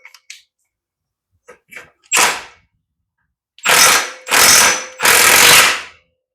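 A ratchet wrench tightens the bolts back down on a John Deere riding mower after a drive belt replacement, a few short clicks followed by three loud, close ratcheting bursts with silent gaps between them.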